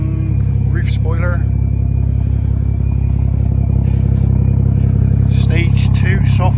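A BMW M135i with stage 2 software and an upgraded gearbox idles with a steady, deep rumble close by, running continuously beneath someone talking.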